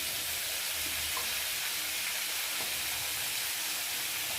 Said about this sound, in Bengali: আর দিয়ে দেবো হলুদ দিয়ে আলুটা ভালো করে ভেজে নেব।